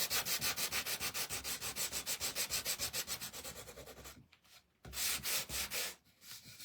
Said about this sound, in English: I'm going to sand this just a little bit